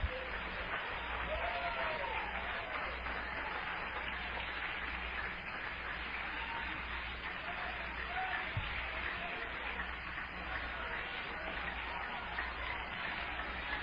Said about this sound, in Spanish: Dale un aplauso más grande, que Él se lo merece.